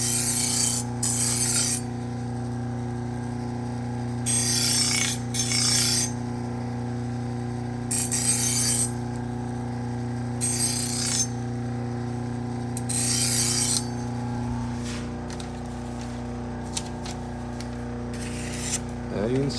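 Steel knife edge stroked against a sharpening surface to clear the burr, short rasping passes repeating in an even rhythm, close and moderately loud over a steady low hum.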